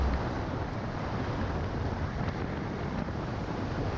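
Cold winter wind blows steadily across the microphone at the Hausai Man viewpoint in Chiang Rai, a constant broadband rush with no breaks.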